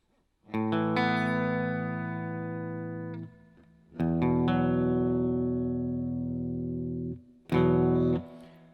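Electric guitar with heavy distortion strikes three sustained add-nine power chords without the third, the first two ringing about three seconds each and the last one shorter, loud and close with no voices.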